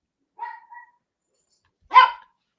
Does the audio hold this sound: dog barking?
yes